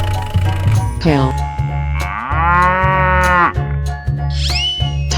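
A cow lows in a 3D animal slide game, one long drawn-out moo rising and falling over steady, looping game music, with a voice speaking nearby.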